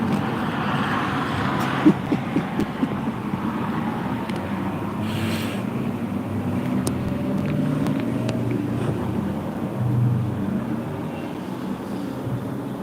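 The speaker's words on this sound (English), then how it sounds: "See, there's traffic." Road traffic passing outdoors on a windy day, a steady low rumble of vehicles with a few louder swells from nearer cars.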